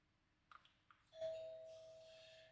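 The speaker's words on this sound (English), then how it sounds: "And there's the doorbell." A doorbell rings with a sustained electronic chime tone, preceded by a few soft knocks and taps nearby.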